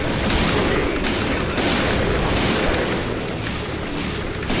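Dense, continuous gunfire from a sniper-focused online shooter game rattles without pause, loud and close, like a sustained fusillade of rapid shots with no talking over it.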